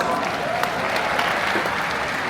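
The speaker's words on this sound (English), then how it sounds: "Let's give everybody a big round of applause." Audience applause fills the room at an event, a steady, dense wash of clapping hands that holds at an even level from start to finish, with no voices standing out.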